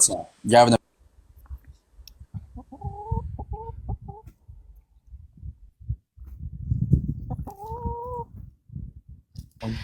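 Chickens cluck in short, choppy bursts, with a sharp squawk at the start and people talking underneath.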